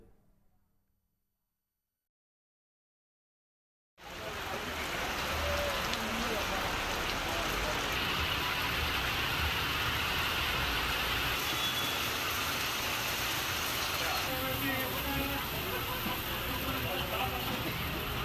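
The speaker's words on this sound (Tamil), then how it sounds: "பல்வேறு பகுதிகளில் கனமழை பொழிந்தது" Heavy rain pouring down in a Tamil Nadu town, a dense, loud, steady hiss that starts abruptly after a few seconds of silence and keeps up without a break.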